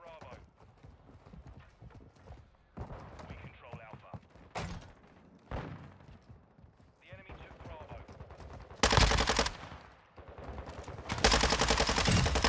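Mini Bak submachine gun fire in the video game Modern Warfare 2, loud rapid bursts that come in two main volleys toward the end, after quieter footsteps and game noise, with a voice talking early on.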